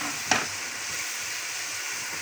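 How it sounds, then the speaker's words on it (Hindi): Potato pieces tipped into tomato masala frying in a pan: one brief scrape or thud as they land, then a steady close sizzle and crackle that carries on alone. "अब इसके साथ ही मैं आलू डाल दूँगी"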